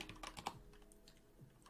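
Quick clattering keystrokes on a computer keyboard, a short burst of several close taps followed by a sparser, fainter keypress, no talk.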